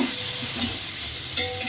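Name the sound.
ginger garlic paste frying with onions for chicken biryani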